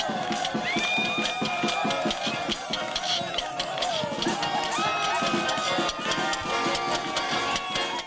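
Dense, rhythmic clapping from a large concert audience at a Kremlin accordion folk show fills the hall steadily, with bright musical tones and some crowd noise mixed in.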